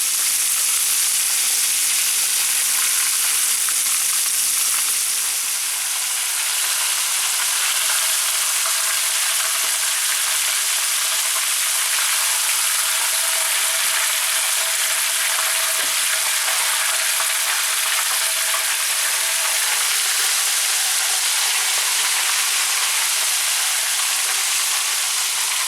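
Quail fry in hot oil with a loud, steady, bright sizzle and crackle that runs unbroken for the whole stretch. There are no voices.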